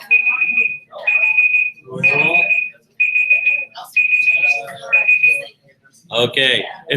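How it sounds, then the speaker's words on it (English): An alarm clock beeps in a steady pattern of loud, high, evenly spaced bursts, about six in a row. A person talks briefly between beeps and again near the end. "that is your alarm clock"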